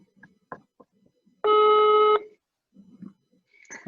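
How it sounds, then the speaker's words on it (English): A Zoom video call ringing out: one steady electronic ring tone lasting under a second, loud and clear, set among scattered faint clicks and brief murmured voices before and after. "now it's ringing."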